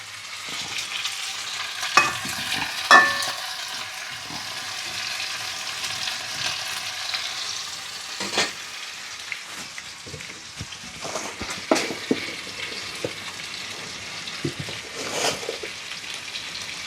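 Drumsticks tossed into a frying pan for a drumstick curry sizzle and crackle steadily, with scraping stirs and a few louder clatters and splashes over the frying hiss, no talking.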